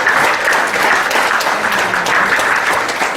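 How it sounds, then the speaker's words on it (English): Steady, dense applause from a crowd at an alumni party, sustained and fairly loud throughout with no break. "Maybe I'll give us another applause for the ladies"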